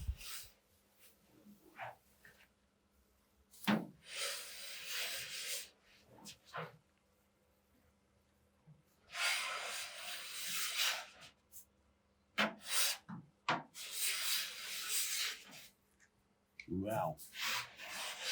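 Tungsten blade with diamond-filed tips scraping thick paint off a Jaguar E-Type body, heard as bursts of close, rough rasping strokes separated by pauses, with a brief spoken exclamation.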